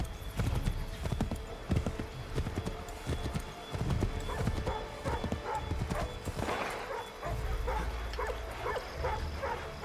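Horse hooves clip-clopping with a neigh, plus dogs barking, in the game Assassin's Creed 3 Remastered, busy and close with the hoofbeats in a steady rhythm, under game voices talking.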